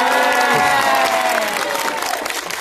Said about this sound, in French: On peut applaudir notre invité, s'il vous plaît